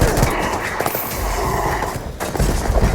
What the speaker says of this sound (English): that is the Kodama Rifle